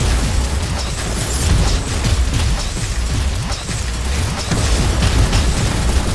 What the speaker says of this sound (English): I don't mind firing, just firing missiles down there